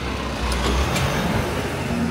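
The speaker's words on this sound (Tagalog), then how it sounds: "padaanin ko lang yung truck, medyo maingay." A truck rolling past on a street in Kyoto, a steady low engine rumble and road noise close by with a brief louder swell, no voices over it.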